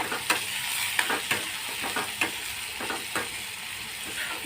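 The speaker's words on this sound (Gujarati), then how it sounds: "હવે આપણે થોડીક વાર આપણી ડુંગળીને સાતળી લઈશું" Onions sauté in a hot pan for a baingan bharta dish, a steady sizzle punctuated by repeated scraping stirs of a spatula, close up with no voices.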